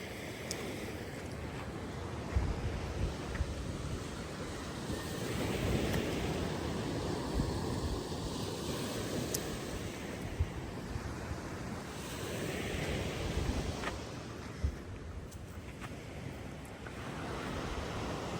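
Rushing water and surging waves during a typhoon in Antique, Philippines, a steady loud roar mixed with gusty wind buffeting the microphone, continuous throughout with occasional sharper splashes.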